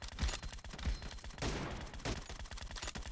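Video game gunfire during a team match: rapid, overlapping shots and bursts crackle through the clip, fairly loud and dense, with a couple of heavier blasts standing out and no talking.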